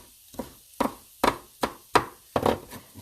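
Knife chopping food into tiny cubes on a cutting board, about seven crisp, evenly spaced thuds with quiet gaps between them, close and clear with no talking.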